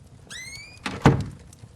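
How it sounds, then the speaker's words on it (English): A door creaks open in the Lovecraftian horror video game Call of the Elder Gods, a rising squeal followed by a solid thunk as it swings, heard alone and fairly close. "Let me open the door and..."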